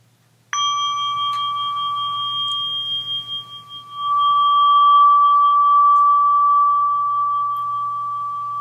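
A single clear meditation bell struck once during a Buddhist dharma talk, its pure ringing tone sustaining and slowly fading over several seconds against quiet background hum.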